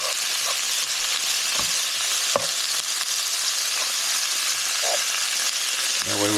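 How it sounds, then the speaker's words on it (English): Spinach frying in a hot skillet with chicken and mushrooms while being stirred, giving a loud steady sizzle with occasional scrapes and clinks of the utensil. "Let me get this good and stirred up."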